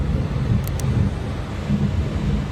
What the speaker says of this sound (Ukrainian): От така у нас злива на раночок